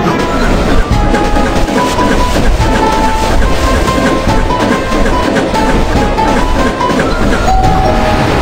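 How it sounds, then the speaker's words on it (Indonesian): A video-game train approaching a desert slope, rumbling loudly and steadily with rhythmic rail clatter and faint tonal squeals, continuous and close throughout. "Kereta mendekati lereng gurun."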